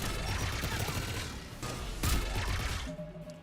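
Sustained weapon fire in the video game Mass Effect 3, dense rattling shots and mechanical clatter close and loud, a sharper burst near the end, with no speech.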